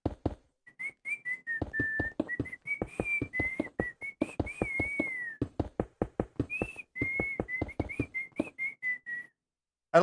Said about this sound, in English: I like that it is picking up my whistle,